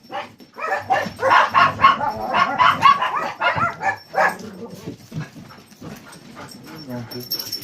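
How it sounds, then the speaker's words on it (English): A dog barks repeatedly in quick bursts close by, with a person talking over and between the barks. "Stop barking!"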